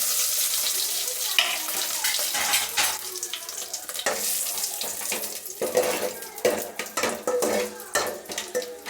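Mustard seeds and dried chillies crackle and spit in hot oil, with irregular sharp pops and sputters over a busy, uneven sizzle.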